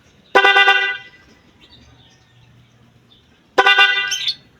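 Two short bursts of rapid car horn honking, each a quick stutter of blasts, separated by a few seconds of quiet background hum.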